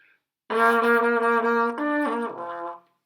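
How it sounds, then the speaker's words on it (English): A trombone with a straight mute holds a few notes, thinner and more nasal than an open horn, then drops to a lower pitch and fades out. "You get a lot of really cool mutes on the trombone, like this one, straight mute."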